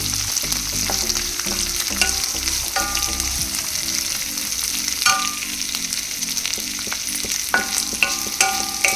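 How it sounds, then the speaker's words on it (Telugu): Chopped onions fry in a pan for tomato rice, a steady bright sizzle with occasional stirring scrapes and clinks, close and continuous. "ఆనియన్ కొంచెం రెడ్ అయ్యే వరకు మనం కొంచెం ఫ్రై చేసుకోవాలి"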